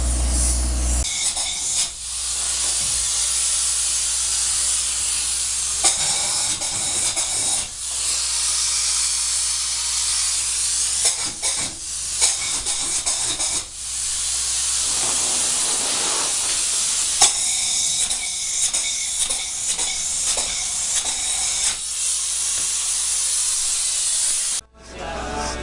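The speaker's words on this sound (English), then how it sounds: "These guys are doing a little test spray here." A spray foam insulation rig runs a test spray in a basement, giving a loud, steady hiss that continues almost unbroken, with brief dips and pauses.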